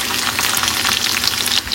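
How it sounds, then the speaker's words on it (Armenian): Raisins fry in a pan for Easter pilaf with a brisk, continuous sizzle and light scraping as they are stirred, close and steady throughout. "ամենահաճելի պահը հենց չամիչ տապակելու մեջ է"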